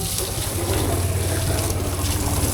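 Water hoses down a car at home before washing, a steady broadband splashing and trickling that runs continuously at close range with no voices.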